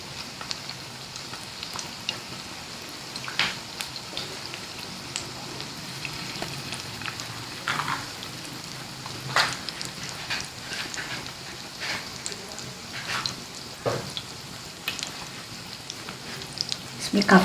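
Spicy tawa fish frying on a flat tawa griddle over a lowered flame, a steady soft sizzle with scattered sharper crackles and pops throughout, close and continuous with occasional faint voice.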